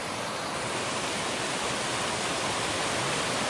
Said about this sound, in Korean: 내려가는 거 보세요. 물.